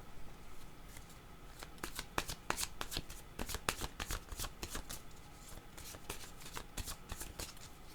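Oracle cards being shuffled by hand, a close run of crisp slapping and riffling bursts in an uneven rhythm, moderately quiet over a faint background hiss, no speech.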